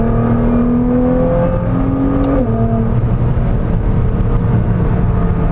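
A Nissan GT-R pulling hard in 4th gear from around 4,500 RPM, its engine note climbing steadily with a loud whirring drone and a brief shift in pitch midway.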